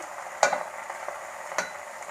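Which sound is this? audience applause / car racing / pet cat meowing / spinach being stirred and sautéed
spinach being stirred and sautéed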